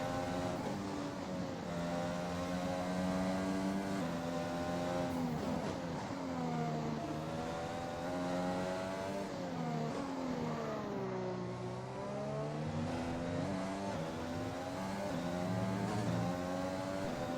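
A Formula 1 car engine roars steadily in the racing game F1 2021 at the Chinese circuit, heard from cockpit view, its pitch rising and falling through gear changes and corners with no talk over it.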